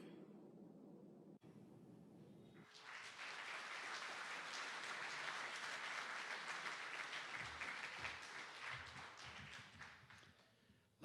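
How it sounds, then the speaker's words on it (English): Sustained applause for Hall of Fame inductees at a high school football playoff event fills the room after a brief quieter opening, a dense, steady wash of clapping that swells and holds before tapering at the end. "Let's hear one more round of applause for all of our inductees."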